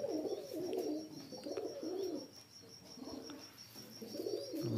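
Pet Shaki pigeons in a rooftop loft coo in repeated low, throaty rolling phrases, several birds overlapping close by with a steady faint hiss behind them.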